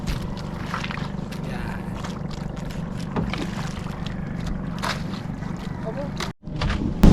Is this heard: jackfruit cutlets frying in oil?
no